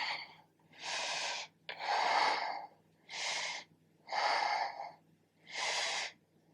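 Deep, rhythmic breathing during a yoga bow pose in a vinyasa flow: five long, close, airy breaths, each lasting about a second, separated by short pauses, with no talking.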